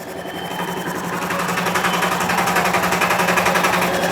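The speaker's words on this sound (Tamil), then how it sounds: "ஒரு அழகாக பிரிண்ட் அடித்து வந்துருச்சு." A compact electronic billing machine prints a receipt with a steady, buzzing mechanical whir that continues evenly throughout at close range, without any voices.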